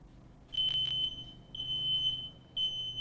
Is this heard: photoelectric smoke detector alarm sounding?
yes